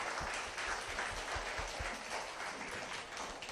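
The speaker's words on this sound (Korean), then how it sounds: "뜨거운 박수 부탁드리겠습니다." Audience applause breaking out during a Korean history lecture, a steady, moderately loud patter of many hands with small sharp accents, continuing on its own with no talking.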